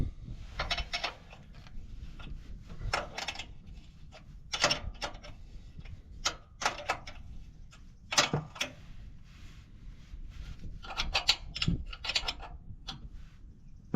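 Metal clicks, ratchet turns and scattered clanks come from a chain idler being tightened on a planter set up for green bean planting, in irregular bursts over a low steady background hum, with no talking.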